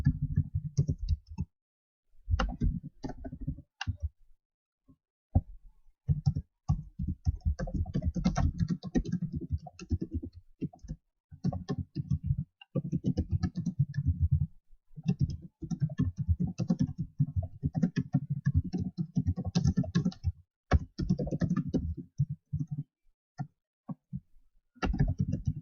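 Steady, fast typing on a computer keyboard while ad copy is written, a close run of crisp key clicks in bursts separated by short pauses, with no voices.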